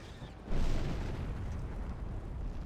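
A fuel barrel blows up in the Freedom Fighters PC shooter, a sudden loud burst whose rumbling roar holds steady for a couple of seconds without dying away.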